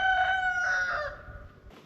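A rooster crows once nearby in the mesa-top town of Amedi, Kurdistan, a loud drawn-out call that trails off and fades.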